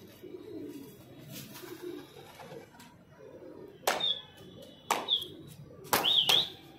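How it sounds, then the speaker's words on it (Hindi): A pair of flying pigeons settles down at a rooftop loft, with soft low cooing early on and then several sharp wing claps and flutters in quick succession, fairly close. "ये दो कबूतर अभी छोड़े हैं हमने, अभी धीरे धीरे नीचे आए हैं"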